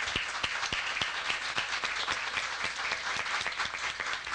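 Audience at a council members' inauguration ceremony applauding a professor, a sustained, even round of clapping with distinct close hand claps over a dense spread of applause from the room.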